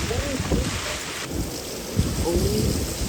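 Steady rain pours down during a severe thunderstorm, a dense close hiss with low rumbling underneath and a soft voice briefly audible.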